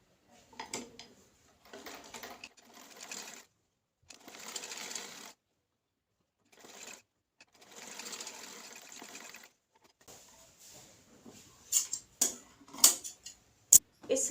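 A sewing machine stitches a collar neck in several short bursts of rapid whirring and ticking separated by pauses, close up, followed by a few sharper clicks and taps near the end.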